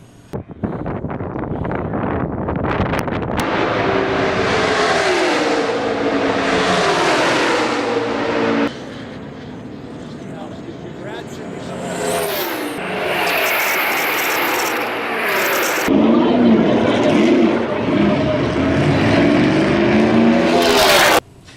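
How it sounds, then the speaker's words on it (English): NASCAR race cars roaring past on practice day at Talladega, a loud sustained engine drone with rising and falling pitch sweeps as cars pass, heavy wind buffeting, no talking. "it was time for some racing, and it was time for practice day."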